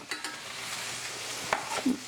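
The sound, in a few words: ginger frying in skillet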